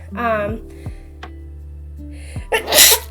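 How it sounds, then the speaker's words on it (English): A short vocal buildup, then a sharp, loud sneeze bursts out near the end, close to the microphone. "I might have to sneeze, you guys."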